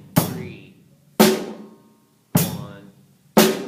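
A drum kit plays a sparse groove of four evenly spaced, sharp hits, with a bass kick falling between beats. The hits ring out clearly and close, with silence between them and no voices.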